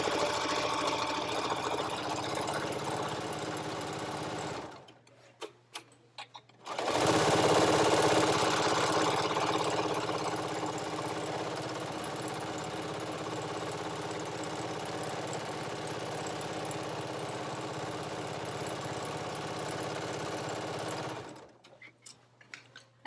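A sewing machine with a walking foot stitches wavy quilting lines through batting, running in a steady mechanical whir with one brief pause before restarting, then stopping near the end.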